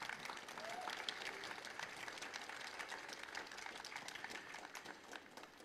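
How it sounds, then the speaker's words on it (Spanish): Steady applause from an audience at a school ceremony in Chile, sustained and fairly even throughout, with a faint murmur of crowd underneath. "Este aplauso es para ustedes."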